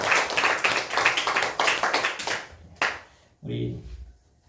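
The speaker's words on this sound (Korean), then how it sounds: "우리 희진의 선교팀 위해서 우리 감사의 박수 하겠습니다." Church congregation claps in thanks for a visiting mission team at a Sunday worship service, a brief burst of clapping for about three seconds that stops abruptly, followed by a short spoken phrase.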